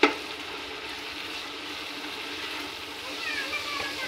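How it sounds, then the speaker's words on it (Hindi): Tomato masala with salt and red chili powder roasts in a pan for a beef kachnar curry, giving a steady soft sizzle that continues evenly throughout, with a brief clatter at the start. "और अच्छी तरह इसकी भुनाई करेंगे"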